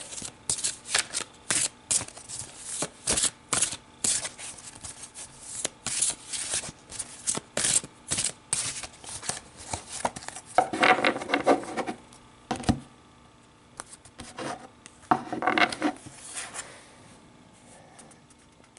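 Tarot cards are shuffled by hand in a long run of quick riffling bursts and soft slides, with a few louder rustling passes near the middle and end as one card is drawn from the deck.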